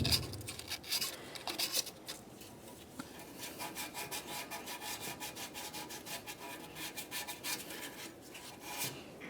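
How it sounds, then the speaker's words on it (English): Sandpaper scrubbing the EGR tube gasket mating surfaces on a 2006-2011 Honda Civic, a steady back-and-forth rasp in quick, close strokes. "you want to make sure you sand down the mating surfaces"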